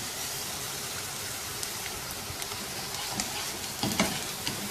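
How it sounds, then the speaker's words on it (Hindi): Chopped onion frying in a pan for bhuna keema, a steady close sizzle with light stirring scrapes near the end, no talking. "प्याज को जस्ट इतनी देर तक पकाना है कि इसकी रंगत हल्की सी तब्दील हो के गुलाबी माइल सी हो जाए।"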